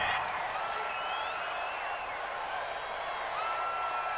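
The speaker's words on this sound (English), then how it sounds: "This home crowd, they're happy with that call." A home crowd at an American football game between the Chiefs and Chargers roars steadily after a penalty flag on third down, a dense, sustained wash of cheering and applause that holds at an even level for several seconds with no clear talk over it.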